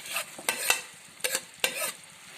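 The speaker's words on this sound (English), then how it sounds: "And then now we'll be mixing it so that all our masala is mixed properly." A spoon stirs and scrapes mashed potato with onion and masala in a pan, a few short scraping strokes over a soft background sizzle, close up and without voices.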